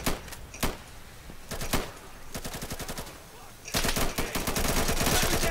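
Rapid bursts of video game gunfire crackle loudly, with sharp single shots early and then long automatic volleys that grow denser toward the end.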